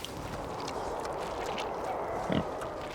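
Pigs in a pen on a remote island oink and grunt at a moderate distance over a steady outdoor background, with one louder grunt near the end.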